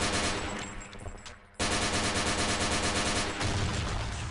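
Uzi submachine gun in a video game firing long bursts of 9mm rounds, a dense rapid rattle that pauses briefly near the middle and then resumes at full loudness, with no talking.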